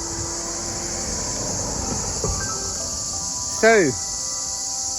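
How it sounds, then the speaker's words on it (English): Cicadas drone in a steady high-pitched buzz outdoors at Delphi, Greece, holding constant throughout, while a soft bird-like warble sounds near the end and a voice speaks briefly. "this cicada noise, it's almost like a frequency of the natural world"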